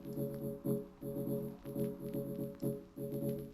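A stock Logic arpeggiator groove set to 50% swing plays a steady pulsing synth pattern of repeated harmonic notes in an even loop, moderately quiet with no voices.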